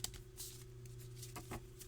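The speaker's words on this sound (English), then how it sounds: "So we're going to shuffle this way for several times." A small deck of US Games cardstock Fairy Tale Lenormand cards is shuffled close by, giving a soft continuous riffling patter with a few sharper flicks over a steady low hum, with no talking.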